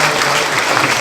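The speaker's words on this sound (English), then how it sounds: "Well, you give Norma a lovely big round of applause." A crowd at a Women's Institute armistice centenary event in Enniskillen Cathedral applauds, dense clapping filling the space at a steady level throughout the brief moment.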